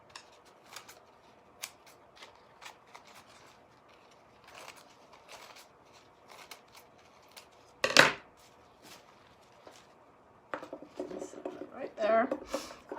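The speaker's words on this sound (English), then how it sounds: "Let's just do a rough cut around it." Scissors snip a rough cut around a shape in a decorative paper napkin, giving a scattering of soft, close cuts and paper rustles with a louder crinkle in the middle and handling noise near the end.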